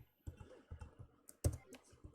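Keys clack on a computer keyboard in quick irregular bursts of typing with a few sharper clicks, close and faint in a quiet room with no talking.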